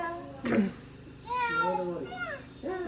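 A voice gives a few drawn-out, wavering meow-like cries, mimicking a cat, with short pauses between them.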